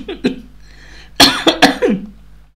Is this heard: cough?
yes